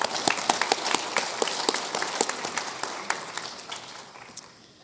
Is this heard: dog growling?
no